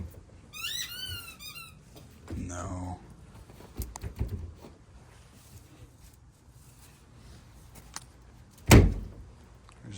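A stuck wooden chicken coop door being forced open, with squeaks and creaks early on, a few knocks, and a single loud bang near the end, heard close with no talking.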